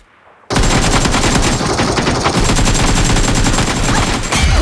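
Loud, sustained automatic gunfire from the mobile battle royale game PUBG Mobile, a dense rapid burst of shots that starts abruptly after a brief quiet moment and continues unbroken to the end.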